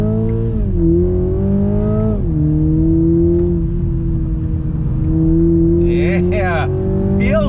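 A 2021 Toyota Supra 2.0 with an 8-speed automatic accelerating hard from inside the cabin, the loud engine note climbing steadily with quick gear shifts that drop the pitch before it rises again.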